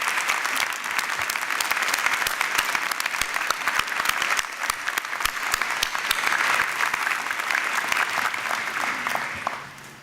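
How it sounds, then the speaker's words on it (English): Sustained audience applause fills a convocation ceremony hall, dense and steady clapping from a large crowd that carries on for about ten seconds before tapering off at the end. "Let's give them a hearty round of applause."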